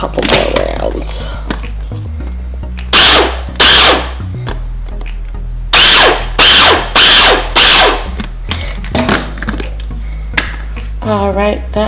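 Food processor pulsing vegan unchicken salad in short, loud bursts with rattling blade and container clatter, repeated several times with pauses between.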